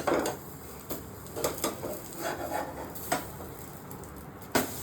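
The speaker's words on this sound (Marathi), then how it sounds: "तुमचा भाऊ सव्वा दोन वाजता हे ऑमलेट बनवत आहे" An omelette cooking in a pan: soft sizzling with light, scattered clinks and scrapes of utensil against the pan, quiet and close, with no talking.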